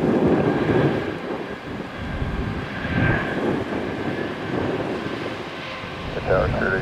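A Lemon Shark–liveried airliner bound for Atlanta passes near the runway at Tampa, its steady engine roar rising and falling under wind rumble across the whole stretch.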